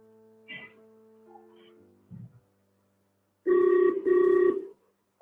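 A doctor's mobile phone rings with an incoming video call, giving two loud electronic tone bursts after a few faint, scattered beeps and quiet noises.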